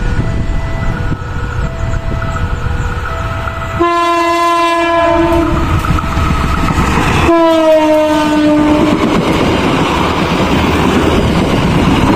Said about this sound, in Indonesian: Tawang Alun ditarik lokomotif bekas mutasi dari Sumatera teman-teman, dengan klakson khas Nathan tadi